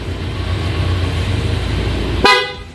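A Honda Click V3 motorcycle's low engine idle runs steadily, then a single loud, bright blast from an aftermarket PIA horn cuts in near the end and fades quickly.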